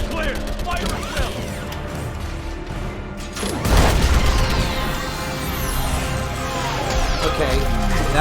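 An orbital strike slams into a Reaper during a Mass Effect battle, a heavy booming impact followed by rumbling, crackling debris and mechanical clatter that swell and linger for several seconds.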